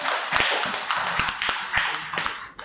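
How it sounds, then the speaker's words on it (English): An audience at a university library seminar claps for the acting vice chancellor, a sparse, uneven patter of individual claps with a few louder hits, close by and fading out within about three seconds. "Please, a round of applause for him."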